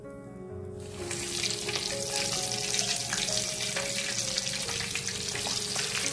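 Chicken pieces dropped into hot oil for homemade fried chicken, a quiet start giving way to a loud, continuous crackling sizzle that holds steady.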